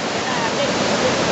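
Waves crashing at Saud beach in Pagudpud under a darkening stormy sky, a loud continuous roar of surf filling the whole moment without a break.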